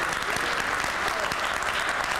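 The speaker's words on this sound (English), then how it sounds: "Can everybody get a hand clap for making it through this weather today?" An audience claps at a Dr. Martin Luther King Jr. holiday celebration, dense steady applause filling the short stretch with a faint murmur of voices underneath.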